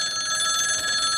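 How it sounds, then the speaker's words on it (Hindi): A telephone bell rings indoors, a loud, steady metallic trill that fills the whole short moment on its own. "नहीं, फोन मत उठाना।"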